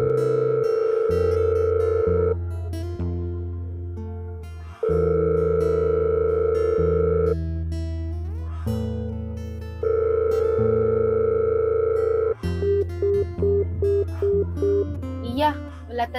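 A phone call rings back with a loud, steady electronic tone in long repeated pulses, over background music and electronic notes.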